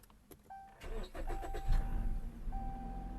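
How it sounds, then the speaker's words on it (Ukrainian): A Chrysler 200 sedan engine cranking and firing up, a brief starter whir followed by a rough, uneven idle with a steady shaking rumble, heard close and fairly quiet. "Ось заведемо, дивіться, як зараз буде труситися мотор."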